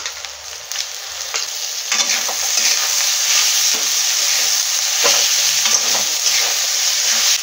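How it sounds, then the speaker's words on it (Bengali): Garlic and chopped tomatoes fry in a pan for Bengali jackfruit chicken, a steady loud sizzle with scattered crackles and the occasional scrape of stirring throughout, no voices. "আর রসুনটা ভালো করে ভেজে নেব। কুচনো টমেটোগুলো দিয়ে দেবো।"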